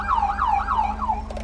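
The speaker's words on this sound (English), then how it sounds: "we are running the LAPD Federal Signal S2000 siren" LAPD-style Federal Signal S2000 police siren in LSPDFR on a 2014 Charger patrol car, a loud close wail cycling rapidly up and down about four times over a low engine hum, alone without talk.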